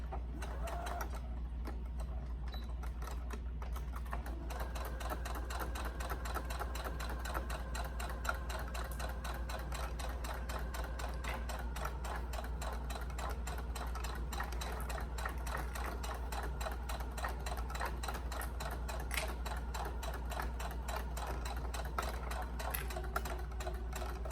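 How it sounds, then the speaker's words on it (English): A sewing machine edge-stitches fabric binding in place with a fast, steady mechanical rattle of the needle running close and alone for the whole stretch, after a brief start at the beginning. "we'll go ahead and edge stitch in place"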